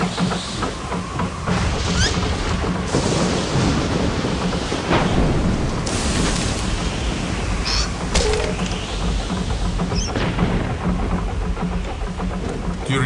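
Steady heavy rain pours throughout while rolls of thunder rumble and crack at intervals, loud and close.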